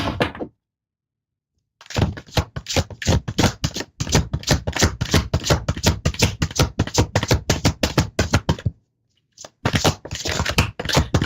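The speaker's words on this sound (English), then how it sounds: "I'm just shuffling the deck because that was taking a sec." A deck of tarot cards is shuffled in quick, rapid riffled bursts of dense clicking, loud and close, separated by short silent gaps.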